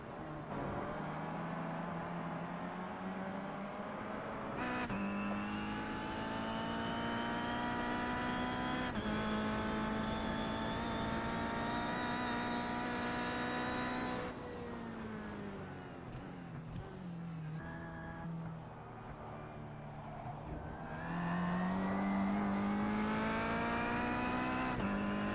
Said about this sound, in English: Well, there you see Cesare Rizzo running himself now into turn number 3 on circuit there.